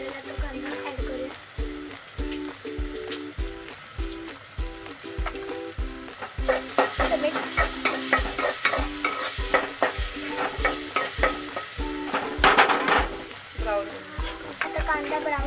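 Chopped onion sizzles in a pan under steady, rhythmic stirring, the spoon scraping in regular strokes. The frying grows louder and busier partway through, with a few sharper bursts near the end.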